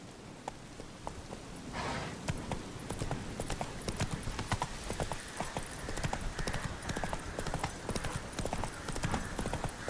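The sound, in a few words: horse galloping in the video game The Witcher 3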